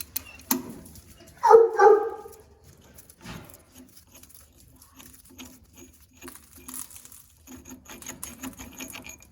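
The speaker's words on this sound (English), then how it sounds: "I got some dogs roughhousing quietly" Dogs roughhousing in the background of a workshop during a Rumely 6A tractor engine restoration, with scattered thumps, pattering paws and scuffles plus a brief whining yelp, fairly faint and intermittent.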